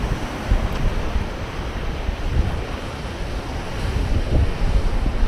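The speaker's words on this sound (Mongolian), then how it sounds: "Далайн ангийн давлгаа ирч цогсоор байгаа бүр хадыг бүр ингээ ийм болгоо хийсэн шүү дээ." Ocean waves wash and break against a rocky shore in Hawaii, a dense, continuous roar of surf mixed with gusty wind buffeting the microphone, with no voices.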